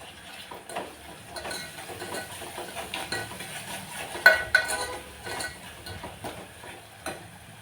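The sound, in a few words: tomatoes being roasted and stirred in a pan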